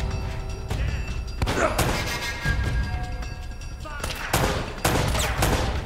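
Gunfire in the action game Uncharted: Drake's Fortune, repeated loud shots and rattling bursts with heavy thuds in an uneven rhythm, a close firefight with game effects layered between volleys.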